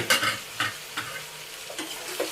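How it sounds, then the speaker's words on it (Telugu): Marinated chicken sizzles in a pan over a low flame while a spoon stirs it in several quick scraping strokes, close and clear with no voices. "ఇప్పుడు మనం మ్యాగ్నేట్ చేసుకున్నది చికెన్ అయితే వేసేస్తున్నాను"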